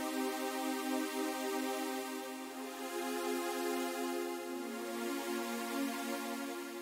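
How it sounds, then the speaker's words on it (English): A built-in Serum factory pad holds a single sustained minor chord, a smooth saw-wave synth tone that swells gently without attacks, quiet and steady throughout with no talking. "this is a Serum patch, just one of the built-in pad sounds"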